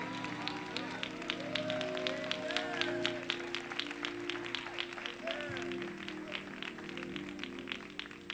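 Audience applause at the 2017 AIM Labor of Love Awards ceremony, steady clapping spread across the room for several seconds, with a voice talking over it and a low hum underneath.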